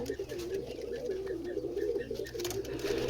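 Pigeons offered for sale at a bird seller's in Jalahalli coo in a steady, repeated low rhythm, close by and continuous, over a dense background of other birds chirping.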